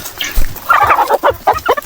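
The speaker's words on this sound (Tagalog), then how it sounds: "Peking duck, native na manok at saka heritage chicken." Farm chickens cluck close by in a quick, busy run of short calls, loud and without talk.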